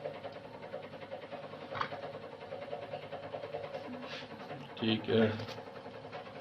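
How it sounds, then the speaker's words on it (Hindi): An electric kitchen grinder crushes green chillies, giving a steady, moderate motor drone that swells louder near the end, while someone speaks briefly over it. "ये मैं हरी मिर्चें जो है ना इस ग्राइंडर में डाल रहा हूँ"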